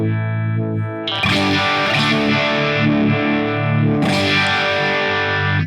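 Electric guitar run through a Line 6 Helix vibe effect placed ahead of overdrive, a dense distorted sustained chord with a swirling, pulsing modulation, loud and continuous, with a fresh strum partway through.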